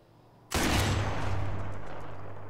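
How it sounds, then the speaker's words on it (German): Single loud sniper rifle shot in Sniper Elite 4, a sharp crack out of near-quiet followed by a long booming echo that slowly fades. "Kann ich von hier aus schießen?"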